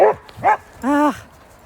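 A chatty dog, one of several being taken to the park, gives three close, loud vocal yips or bow-wows in quick succession, the last drawn out and whiny, with no talk in between.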